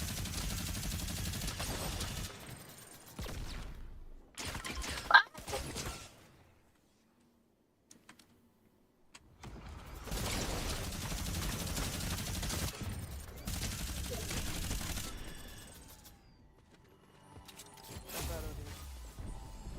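Bursts of rapid gunfire from a video game shooter, loud clustered volleys separated by short quiet gaps, with a voice talking between the shots.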